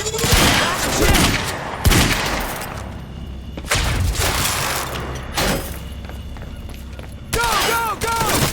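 Sustained in-game gunfire from Quantum Break, loud dense bursts of shots and booming impacts rolling one into the next, with brief lulls and a voice calling out under the barrage.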